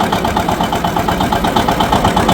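John Deere 730 tractor engine running steadily in sixth, high gear, a loud, close, continuous rumble with a fast regular pulsing throb and no talk over it.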